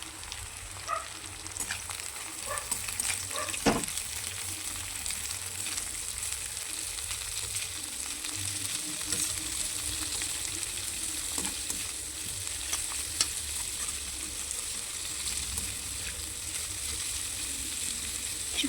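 Cabbage frying in a pan for chow mein, with steady sizzling and occasional stirring scrapes at moderate loudness and no voices throughout.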